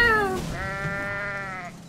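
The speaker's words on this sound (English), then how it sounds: "It's Mr. Gooch, the Super Goat." A goat bleats in the video game Goat Simulator, one short falling cry followed by a longer, steady, nasal bleat, loud and close with no talk.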